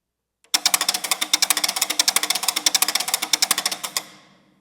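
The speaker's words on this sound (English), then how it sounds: "And then I have a series of sustained auxiliary instruments that I play. The first is a ratchet." A loud, rapid old-style ratchet, a percussion instrument, clatters in a steady burst of sharp clicks for about three and a half seconds, then stops abruptly with a short ringing tail.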